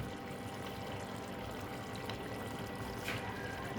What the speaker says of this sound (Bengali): আমি দেখো অল্প ঘি দিয়ে দিলাম